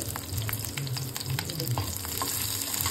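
Cumin seeds and green chillies fry in hot oil in a pan, a steady close crackling sizzle with light stirring scrapes running throughout.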